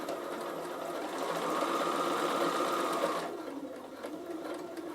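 A Bernina sewing machine stitches a quilted Christmas hand towel, a steady rapid mechanical whirr and needle clatter that runs continuously and drops off near the end, with no talking over it.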